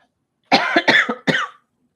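A person coughs three times in close succession, close and loud, with nothing else heard around it.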